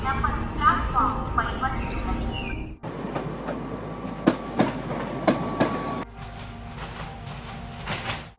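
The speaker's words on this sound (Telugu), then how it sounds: "దూరంగా వినిపిస్తున్న రైలు హారన్" A train passes along a railway line, its wheels rumbling and clattering steadily, with a few sharp metallic clicks standing out at mid distance.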